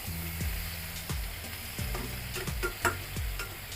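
Mixed vegetables with turmeric and salt are stirred in a frying pan, close-up: a soft sizzle runs underneath while a spatula scrapes and taps the pan about six times in an uneven rhythm.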